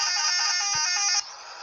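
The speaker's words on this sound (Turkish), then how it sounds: "Korna çalıyor." A single long, loud truck horn blast in a driving simulator game, bright, harmonic buzzing tone held for over a second, then cut off abruptly, leaving quieter background hum.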